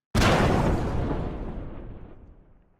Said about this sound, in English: like this explosion sound